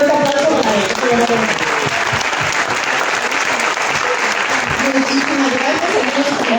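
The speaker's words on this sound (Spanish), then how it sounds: "Fuerte aplauso para él." Loud, sustained audience applause fills a school anniversary talk, a dense steady wash of clapping with no breaks, and voices murmur faintly beneath it.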